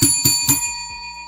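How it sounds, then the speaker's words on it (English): A bright bell rings three quick times in even succession, each strike leaving a clear sustained metallic tone that decays into silence. "Let's ring the bell for me being honest."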